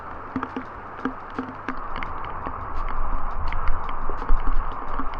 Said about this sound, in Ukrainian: дивіться як дощик, яка злива йде